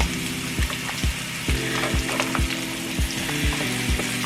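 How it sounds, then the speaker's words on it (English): A cup of mushrooms sautés in a pan, frying with a steady sizzle. Regular knocking clicks land about every half second as the mushrooms are stirred. "So now I have a cup of mushrooms I'm gonna go ahead and put in."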